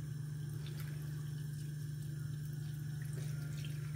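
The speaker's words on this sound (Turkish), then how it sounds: "Patateslerimizi bir tavamıza aldık ve üzerine geçecek şekilde su ilave ediyoruz." Water is added to a pan of potatoes in a kitchen, making a steady, continuous close-up stream with a strong low hum underneath and no talking.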